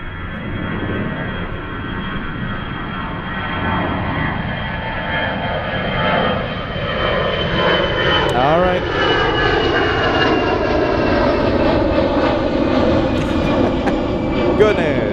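An EasyJet airliner bound for Palma de Mallorca departs Zurich airport. Its jet engines give a loud, sustained roar that slowly shifts in pitch as the plane passes, with faint voices underneath.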